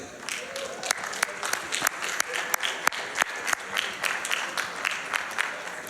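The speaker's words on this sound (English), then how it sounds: "Give yourselves a round of applause, guys." An audience at a speedrunning marathon event claps steadily, a dense patter of applause with some louder individual claps, continuing throughout.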